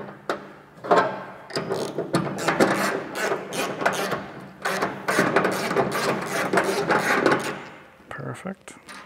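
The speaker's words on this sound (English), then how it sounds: "I'm going to bolt these together for now" Bolting Porsche 356 door parts together with a ratchet during a Cabriolet-to-Speedster door conversion, giving a busy run of close clicking and metallic mechanism noise that continues steadily, with a brief pause near the end.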